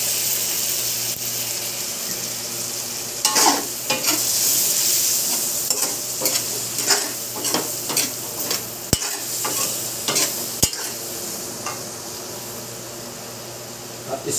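Pork adobo with tausi fries after vinegar is poured in, giving a constant loud sizzle broken by repeated scraping stirs and clatters of a utensil against the pan.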